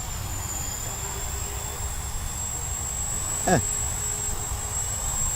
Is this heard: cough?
no